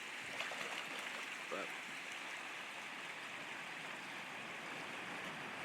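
Fast-flowing stream water at a trout run near Avonia Beach, a steady broadband rushing wash that stays even and moderately loud throughout, with a brief spoken word near the start.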